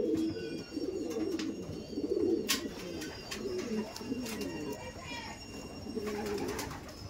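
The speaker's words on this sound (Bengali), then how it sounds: "দেখুন এই একটা ফুলশিরা পেয়ার আছে আমাদের সুমনদার কাছে" A pair of Fulshira breed pigeons cooing softly and repeatedly at close range, a steady low rumbling coo against quiet background noise, with a few faint clicks.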